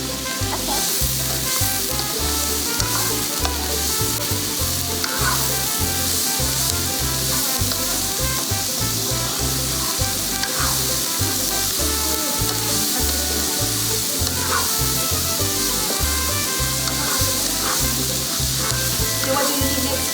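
Shepherd's pie filling sizzles loudly and continuously in a hot pan, with a steady frying hiss and occasional stirring scrapes and knocks.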